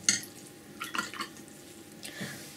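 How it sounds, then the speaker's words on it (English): A flat paintbrush is rinsed in a jar of water between strokes of an acrylic macaw painting, giving a few soft, close swishes and light drips, quiet and brief. "Wash the brush."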